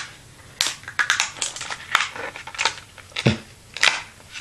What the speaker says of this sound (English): I actually got my scissors handy.